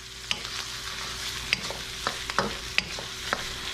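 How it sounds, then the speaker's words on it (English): Chopped onion sizzles in cooking oil, steady and fairly soft, while a utensil stirs through it with repeated sharp scraping clicks at an irregular rhythm. No one speaks. "And then we're going to put our chopped up onion. Swish them around. Just to coat the onion with your cooking oil."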